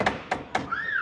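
Three sharp taps at an even pace from a tiny hammer during an upper control arm replacement on a Chevy Trailblazer, followed by a short rising-and-falling whistle-like tone.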